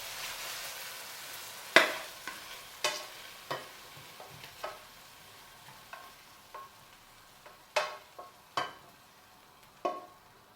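Cherry tomatoes cook in a pan, with a soft, low sizzle and a series of sharp clinks and taps of a utensil stirring against the pan at irregular intervals.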